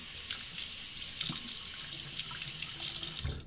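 A razor is rinsed under a running bathroom tap during a shave: a steady close hiss of flowing water with small splashes and changes as the blade passes through the stream, and no voices.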